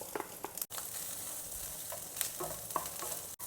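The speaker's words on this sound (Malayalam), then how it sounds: "തേങ്ങ വറുത്തെടുക്കാം." Grated coconut fries in a pan with popped mustard seeds for koottu curry, a quiet steady sizzle broken by several scraping stirs of a spoon, with no voices.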